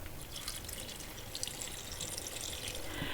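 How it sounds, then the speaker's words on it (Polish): Lukewarm water poured into a jar of beets for fermenting, a continuous close splashing trickle that fills the jar steadily with no talking. "Zalewam przygotowaną letnią wodą tak pod wierzch słoja, żeby u góry zmieścił się chleb."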